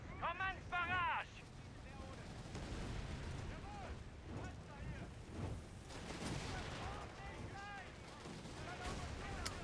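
Artillery barrage from massed batteries in a strategy war game, a continuous rumbling roar of distant shell fire and blasts under ongoing battle noise, with a voice speaking faintly at times.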